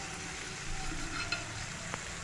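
Diced potatoes frying in a pan with a little salt, a soft continuous sizzle with a few light clinks and scrapes of stirring, fairly quiet and with no talking.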